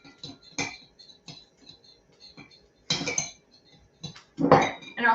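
Lemon juice is stirred in a dish, giving scattered clinks and scrapes of a utensil against the bowl, irregular and fairly close, with quiet gaps between louder clatters and a brief throat-clearing sound.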